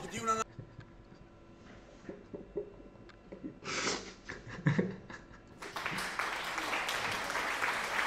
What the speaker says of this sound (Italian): Ci voglio gli applausi per Ercole